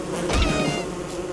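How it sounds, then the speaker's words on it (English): Bees buzzing after a beehive is struck with an axe in the Don't Starve video game, a dense steady drone at moderate loudness lasting throughout. "I made the incredibly wise decision to whack this beehive with my axe."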